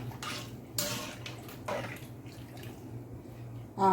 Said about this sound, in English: Soon as the pumpkin is off cook, you're going to wash your rice and put it in the pot.